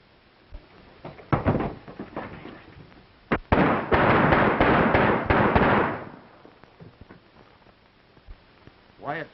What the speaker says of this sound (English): let's riddle him with bullets.